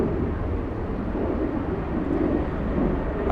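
A Frontier airliner arriving from Orlando at LAX airport, a continuous broad jet roar at moderate level with no clear rise or fall, heard without talk.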